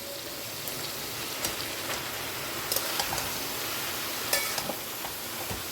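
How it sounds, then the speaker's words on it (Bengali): Bottle gourd sizzles in hot oil as it is sautéed with fried prawns, a continuous crackling hiss with occasional sharper pops and a few stirring scrapes, steady and close. "এবার চিংড়ি মাছের সাথে একসাথেই আমি লাউটাকে কষিয়ে নেব"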